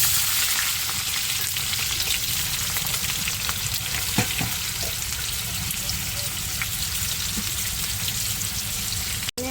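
Chopped tomatoes hit hot oil in a frying pan with garam masala for a paneer dish, giving a steady, loud broadband sizzle that fills the whole stretch, with faint stirring clicks and a brief knock near the end.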